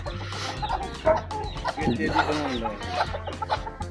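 Hens cluck repeatedly close by, with busy overlapping calls and a low hum in the background.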